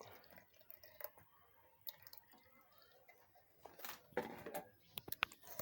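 Water being tipped off a tray of damp seedling soil for water spinach microgreens, faint scattered drips and a brief trickling splash near the end, with light handling noises in between.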